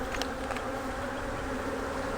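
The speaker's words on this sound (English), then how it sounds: "These are some prolific bees" Honey bees buzz at an open hive during an inspection, a dense, continuous drone close by with no voices.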